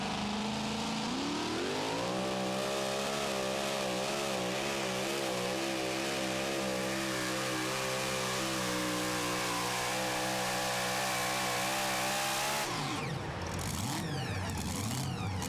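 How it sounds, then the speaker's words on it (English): Pro Stock pulling truck called Part City roaring at a truck and tractor pull, a loud sustained engine drone that climbs in pitch for about ten seconds before cutting off abruptly near the end. "this is a former champ, Lisa Tatum, driving the truck that her father campaigned for so many years, now called Part City."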